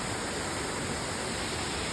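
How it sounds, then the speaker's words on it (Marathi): Waterfalls pour down the Sahyadri mountain slopes near Rajgad fort in Maharashtra, giving a steady, even, distant rushing roar with no voices. "काय सुंदर धबधबे आहेत."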